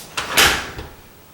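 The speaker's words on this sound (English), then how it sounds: "Now close your door" A door swinging shut, likely tied to a smart lock being set up, with a quick bump followed by a louder thud, close by and alone with no talking.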